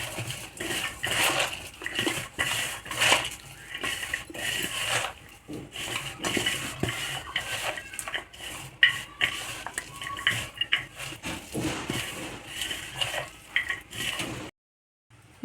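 Cabbage manchurian batter with corn flour and coriander is mixed by hand in a bowl, a close, continuous run of wet squelching and scraping with occasional clinks, no talking, ending abruptly in silence.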